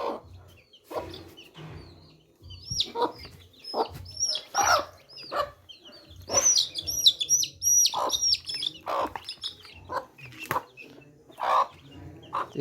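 Chickens cluck and a rooster calls in short bursts, with scattered high chirps from chicks, all fairly close and irregular.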